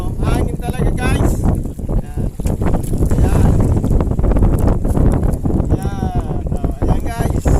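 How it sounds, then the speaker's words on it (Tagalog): Strong wind buffets the microphone outdoors as a loud, continuous rumble, with a person talking over it throughout. "Guys, hangin talaga guys."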